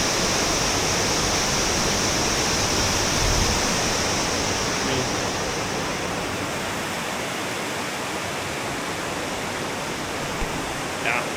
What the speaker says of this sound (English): Look at the river feeding up into the waterfall.